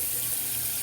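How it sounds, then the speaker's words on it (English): Cold water pours steadily from a kitchen sink tap, a constant close hiss of running water with no pauses or voices. "got the cold water running"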